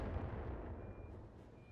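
A heavy, booming missile salvo fires in the mech combat game BattleTech, a single loud low rumbling blast that slowly decays over under two seconds.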